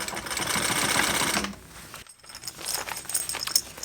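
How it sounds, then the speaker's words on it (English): A sewing machine stitches around a pack with large zippers, its fast mechanical whirring steady for about a second and a half before stopping, then light handling clatter and rustle of fabric close by. "And now I'm just going to sew all the way around"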